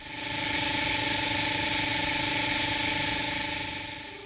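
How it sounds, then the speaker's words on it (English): A Seektech SR-24 utility locator gives a steady, continuous audio tone with a hiss of static over it, lasting about four seconds with no voices. "When the tracing line is fuzzy, the audio will contain static."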